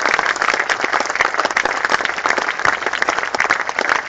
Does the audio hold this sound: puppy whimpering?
no